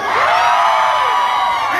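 Large concert crowd at a show in Fort Worth, Texas, shouting, whooping and cheering loudly and continuously, a dense wall of voices close up with no break.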